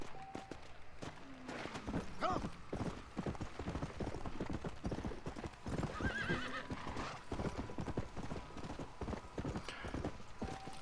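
Horse hooves clip-clopping steadily along with a neigh partway through, in the video game Red Dead Redemption 2; continuous trotting rhythm, moderately loud, with faint voice underneath at times.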